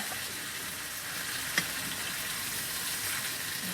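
Chicken browns in a pan for chicken Marsala, giving an even, close frying sizzle with a steady crackling hiss. A single small pop comes partway through, and no voices are heard.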